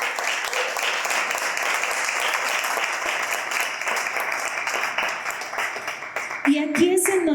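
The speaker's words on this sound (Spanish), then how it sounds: "Dale palmas a Dios." A church congregation applauds in a dense, steady wash of clapping that holds for several seconds, then thins as a voice comes in near the end.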